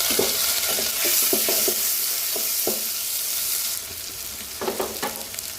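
Steady oily sizzling of lentils frying in hot oil after onions, with scraping stir strokes clattering now and then; no voices.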